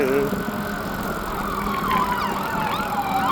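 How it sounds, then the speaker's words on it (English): An ambulance siren wails along a road during a lunchtime bike ride near a shopping center, its rising and falling tone sweeping steadily over constant traffic and wind noise. "there's the ambulance, is right here"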